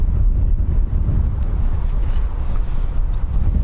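Gusty wind at Dublin Airport roars steadily into the microphone as a dense low rumble, loud and continuous with no voices.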